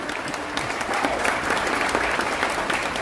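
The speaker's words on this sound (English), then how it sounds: "Give them all one last round of applause, everybody." An audience at a veterans tribute ceremony aboard the cruise ship Enchantment of the Seas gives a sustained round of applause, dense and steady clapping from a large crowd filling the room.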